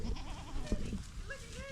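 Goats bleat in a brush-covered pasture as they clear young trees and undergrowth. The calls are close and overlap with rustling and low field noise.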